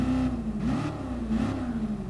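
Shelby Cobra 427 from 1966 with a four-speed gearbox, driven in GT Sport, its V8 engine revving steadily and loudly with a rising and falling pitch, alone with no talk.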